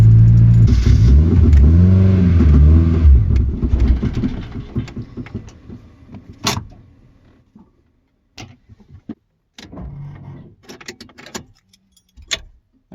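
A turbocharged Nissan 240SX engine revs loudly at first, then settles and stumbles as it struggles to hold idle, with scattered knocks and clicks around it.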